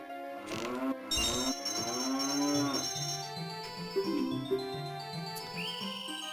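A cow in the Zelda Ocarina of Time video game moos in long, loud, pitch-bending calls, overlapping in quick succession, with steady game music and buzzing insect-like effects beneath.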